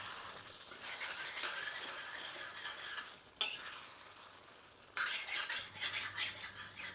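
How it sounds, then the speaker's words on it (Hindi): Ladle stirring a potato and aubergine curry in a pot, with scraping and soft sizzling strokes, a sharp clank partway through, then louder, busier stirring near the end. "एक बार अच्छी तरह करछी चलाते हैं।"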